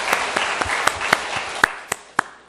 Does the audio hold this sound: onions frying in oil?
no